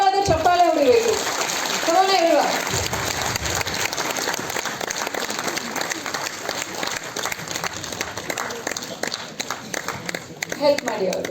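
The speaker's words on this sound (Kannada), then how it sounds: "ಎಲ್ಲರೂ ದಯವಿಟ್ಟು ಒಂದು ಜೋರಾದ ಚಪ್ಪಾಳೆ ಹೊಡಿಬೇಕು." An audience claps at the Adigas Yatra 32nd anniversary event, a steady crowd applause that carries on for several seconds while a voice speaks over the start.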